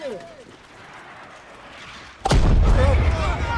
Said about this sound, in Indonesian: mereka seketika dikagetkan oleh serangan artileri sekutu yang diklaim memiliki hulu ledak gas beracun